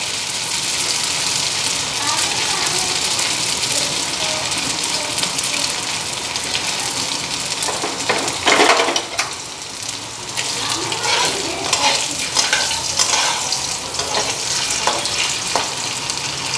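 Pieces of moong dal batter lightly fry in hot oil with a steady close sizzle, joined partway through by brief clatter as pieces are added and turned.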